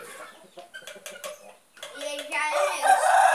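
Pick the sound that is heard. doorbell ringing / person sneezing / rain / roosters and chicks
roosters and chicks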